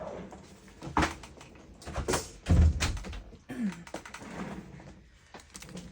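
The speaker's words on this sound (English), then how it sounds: "I'll shut my door real quick." A room door is shut at home during a quiet craft session, one soft low thud standing out among light tapping and rustling handling sounds.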